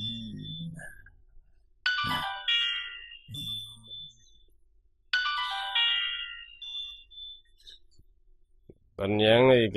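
A phone text-message ringtone chimes in short bright tonal bursts a few times amid a Vietnamese TV drama scene, with voices talking between the tones.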